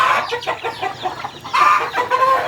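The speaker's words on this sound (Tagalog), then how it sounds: "kinulong ko kasi yung mga kamanok kasi nga lumada po sa ibang bahay" Backyard chickens cluck close by in a quick, busy run of short calls, with louder bursts near the end and no voices.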